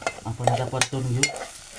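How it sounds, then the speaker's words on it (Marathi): Onion and a spoonful of homemade masala stirred and sautéed in a pan, with short scraping stir strokes over a soft sizzle, close and moderately loud, no talking. "आपण आता परतून घेऊ."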